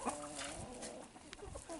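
Chickens in a backyard flock clucking steadily and close by, several birds overlapping in a busy, continuous murmur of short calls with no talking.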